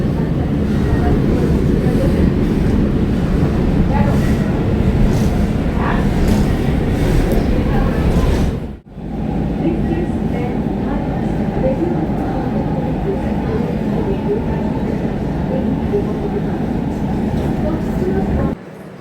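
A metro train rides between stations on a quiet afternoon. A loud, steady rumble and rattle of the carriage fills the whole stretch, with a brief dip partway through, heard from inside the car.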